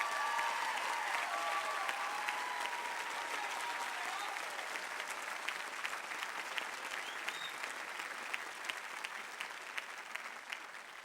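A large audience claps at a graduation ceremony in a sustained, dense wash of applause that stays fairly even and slowly thins across about eleven seconds, heard from a moderate distance.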